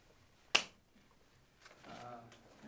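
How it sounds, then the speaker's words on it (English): One sharp hand clap rings out alone in a quiet room, crisp and close with a short decay, and a voice begins talking softly a second later. "Want me to clap?"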